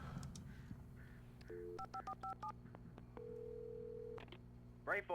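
Telephone dialing in the Alan Wake video game: a run of short touch-tone beeps followed by a longer steady tone, clear against a low ambient hum.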